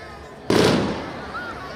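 A single sharp firework rocket blast bursts out loudly at a neighborhood festival competition, followed by a rumbling, crackling decay that fades slowly.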